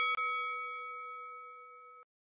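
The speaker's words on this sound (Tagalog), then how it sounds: "huwag kalimutan na pindutin ang notification bell." A single bright notification-bell ding rings out cleanly after a soft click, then sustains and fades slowly for about two seconds before cutting off.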